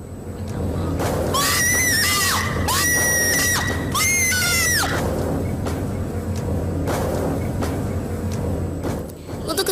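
A woman screams hysterically in repeated high, wavering bursts during a paranormal TV shoot, loud and close over a noisy background, followed by rough background commotion.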